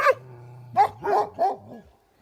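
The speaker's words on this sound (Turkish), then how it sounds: "Evet köpekler." A few sharp barks from a shepherd's dogs close by, spaced unevenly, with a low sustained tone underneath at the start.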